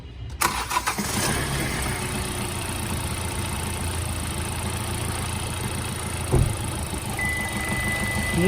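A 2020 Hyundai Creta diesel engine cranks and catches at the start, then settles into a steady, even idle with a low, constant rumble and one brief bump partway through.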